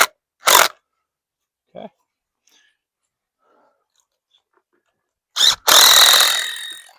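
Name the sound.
impact wrench fastening hose reel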